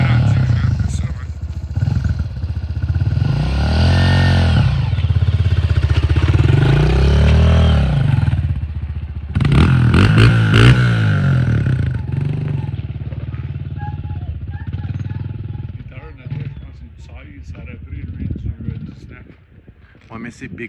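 A Honda CRF125F dirt bike engine runs close by and revs up and down as it is shifted using the clutch, with mechanical clatter and wind noise. People talk over it.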